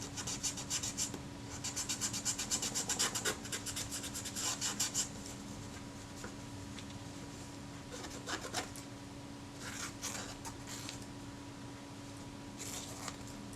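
Close rubbing and rasping scrapes on a Retinette type 030/9 camera part as glued-on residue is worked off with solvent, with irregular bursts of scrubbing strokes, louder early on and sparser later, and no talk.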